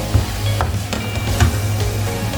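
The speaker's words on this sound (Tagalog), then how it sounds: "Ginisang gulay. Pinasigisa ko lang yan" Mixed vegetables sautéing in a pan for Filipino ginisang gulay, a steady close sizzle with occasional stirring scrapes and clacks.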